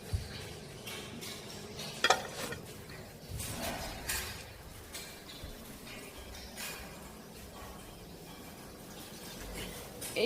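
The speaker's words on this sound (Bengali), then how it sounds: "এই ডিম অমলেট করছে এখানে" An egg omelette fries in a pan in a home kitchen before a Ramadan pre-dawn meal: a soft sizzle with spatula scrapes and occasional clinks of utensils against the pan, and faint background sounds.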